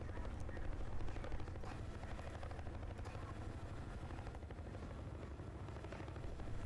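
Helicopter rotor thumping steadily in Battlefield Bad Company 2, a dense constant chop with faint gunfire bursts mixed in, loud and continuous throughout.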